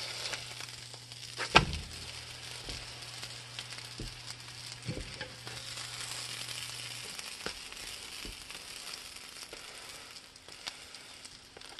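Tortilla frying in butter for Thai roti sizzles steadily in a pan, a soft continuous crackle close by with a sharp clack around the flip, then the frying hiss settles and carries on alone.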